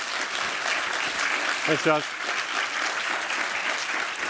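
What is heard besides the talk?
audience applause for speaker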